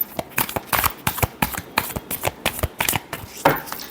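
A deck of tarot cards is shuffled by hand, close and crisp, giving a rapid run of sharp riffling bursts in an uneven rhythm, with no voice over it.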